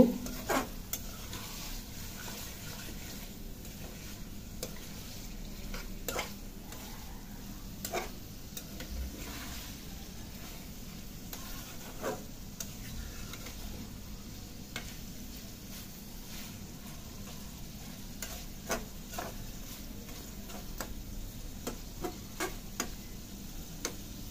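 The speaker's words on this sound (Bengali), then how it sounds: "এবার মশলার সাথে এই পাখনাগুলো খুব ভালো করে কষিয়ে নিতে হবে।" Chicken wings stir-fried with spices in a pan on medium heat give a low steady sizzle, punctuated by frequent light ticking scrapes of a spatula, fairly quiet and close with no talking.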